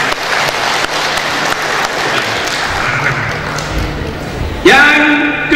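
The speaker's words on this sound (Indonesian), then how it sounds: "Tepuk tangan." The audience at a public debate between mayoral and vice-mayoral candidates in Dumai applauds in a full, continuous patter. Near the end a loud tonal chime or jingle cuts in over the clapping.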